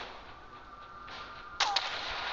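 A single sharp gunshot in the video game This War of Mine, sudden and moderately loud against a low, steady ambient hiss, followed by a brief ringing tail.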